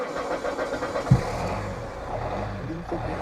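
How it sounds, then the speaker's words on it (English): A car engine jump-started from a JF EGWO 4000A jump pack: a steady idling rumble under a brief knock, running evenly close by with low broadband noise throughout. "I'll leave you there and I'll go into the car and jump start it."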